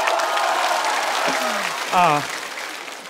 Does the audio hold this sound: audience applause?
yes